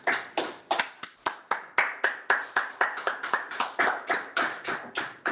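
Slow, distinct claps ring out one by one in a steady rhythm, sounding like a single pair of hands or a small audience after a poetry reading, fairly close with no talk.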